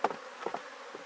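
A honeybee swarm hums with a few short buzzing bursts, close and fairly quiet, as the mother colony leaves the hive during a split.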